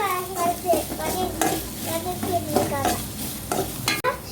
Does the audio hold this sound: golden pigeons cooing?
no